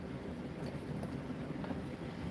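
A home heater roars steadily in the background of a room, a constant low broadband rumble with no talk over it.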